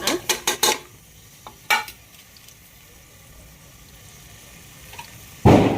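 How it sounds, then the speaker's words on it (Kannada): Onions are stirred in oil in a pot for mutton gravy. A few quick utensil scrapes and clatters come first, then a quiet stretch with a faint sizzle, and a loud scrape at the end. "ಚೆನ್ನಾಗಿ ಫ್ರೈ ಮಾಡ್ಕೊಳ್ಳಿ ಈರುಳ್ಳಿ"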